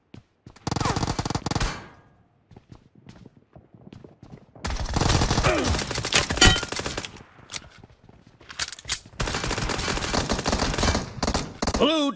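Automatic rifle fire in a PUBG Mobile Gun Game match: loud, rapid bursts in three long volleys separated by brief quieter gaps with scattered single shots.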